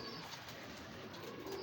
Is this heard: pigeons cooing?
yes